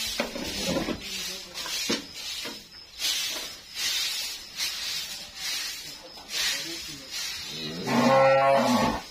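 Cattle in a shed being cleaned, with hissing spray and rustling throughout, and a loud, close cow moo near the end.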